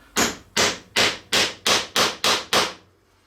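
A hammer drives a threaded insert into a wooden workbench stand part: eight sharp, evenly spaced, close strikes in a quick regular rhythm, then silence.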